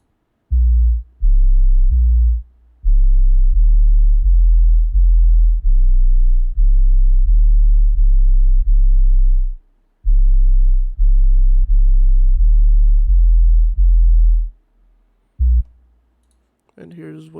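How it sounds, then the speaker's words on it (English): Deep 808 bass notes in a pluggnb beat pulse in a steady rhythmic pattern of repeated short and held hits, loud and alone, with a short pause midway and a voice at the end. "And here's the 808s."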